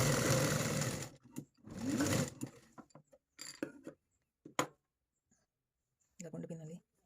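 A sewing machine stitching a cutwork sleeve in short whirring bursts, separated by pauses, clicks and fabric handling, with a person talking between the runs.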